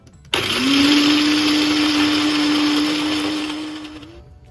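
An electric blender grinds Thai green curry paste in a home kitchen, a loud steady motor whir that starts abruptly and holds for about four seconds before cutting off, with no talking.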